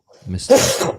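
One close sneeze bursts out after a short intake of breath. A voice speaks briefly around it.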